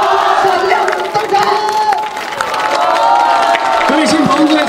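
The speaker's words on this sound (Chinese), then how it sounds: "来，好朋友们，友军热情掌声" A wedding crowd cheers and applauds loudly and continuously for the host's entrance, with festive music or horn-like tones running underneath and scattered shouts and voices mixed into the din.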